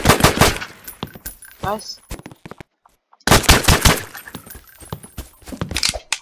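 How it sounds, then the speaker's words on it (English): Assault rifle in a Roblox first-person shooter fires rapid bursts of automatic shots, loud and close, with a short silent gap mid-way before another dense stretch of gunfire; a voice speaks briefly. "This is assault rifle."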